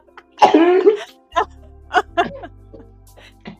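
A single husky, rough cough bursts out close and loud, followed by a few short bits of mouth noise and light talk.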